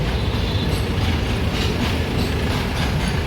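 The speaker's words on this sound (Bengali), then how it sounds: "ব্রিজের নিচে দিয়ে যাচ্ছে ট্রেন।" A freight train rolls beneath a road bridge, with rainwater pooled below, as a loud, steady rumble and rattle of wagons continues throughout, with faint clickety-clack and no talking.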